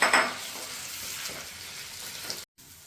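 Ground turmeric and ginger roast in a pan with a steady, moderate sizzle, a louder burst at the start and a brief break near the end.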